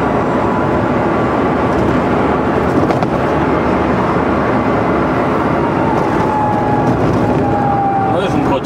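A 2012 Renault Twizy electric car driving at 40 km/h, with a loud, steady road and motor whine and rumble inside the cabin, constant throughout.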